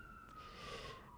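An ambulance siren wails steadily in the distance, a faint continuous tone drifting slightly lower as it passes, with no talk over it.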